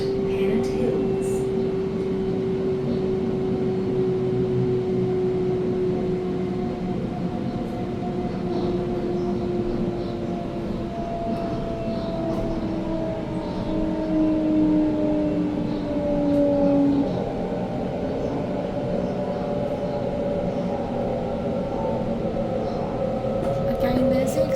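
A Sydney Northern Line train runs steadily with a dense rolling rumble and gliding motor whine, heard from inside the carriage.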